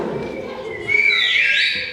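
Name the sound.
person whistling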